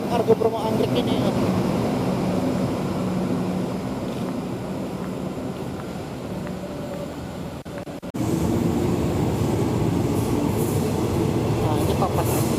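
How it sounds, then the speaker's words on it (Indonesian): An Argo Bromo Anggrek passenger train from Surabaya Pasar Turi rumbles steadily past Juanda station in Jakarta, a continuous loud rolling roar that briefly drops, then swells again, with station ambience around it. "ini kayaknya Argo Bromo Anggrek ya. Nah, ini keretanya ini dari Surabaya Pasar Turi ya."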